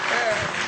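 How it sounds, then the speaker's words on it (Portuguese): A live audience at a televised mayoral debate claps in a brief, dense burst of applause that stays steady and close throughout. "Não merece aplauso, desculpe."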